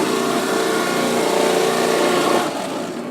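A Robot Coupe R301 food processor fitted with a 2mm grating disc, running with a loud, steady motor whine close by that drops slightly near the end, with no talk over it.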